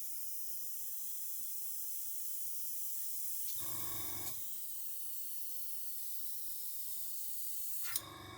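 Spray paint hisses over a stencil mask as a broad steady spray for several seconds, with short breaks where the nozzle releases.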